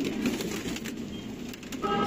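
Sialkoti breeder pigeons give low, rolling coos nearby, repeating in a steady murmur with faint background noise and a quiet voice.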